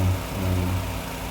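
A homemade machine for mixing fish feed pellets runs with a steady, loud motor drone and a low hum, close by and with no talk.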